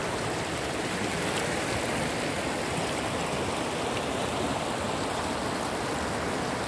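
A stream near the Kiwari dam in Sinjawi, Balochistan rushes with a constant, dense wash of water, close and steady, with no talk over it.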